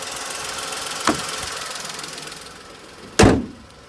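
A car hood slams shut with one loud, sharp thud after a softer knock, over a steady low engine hum.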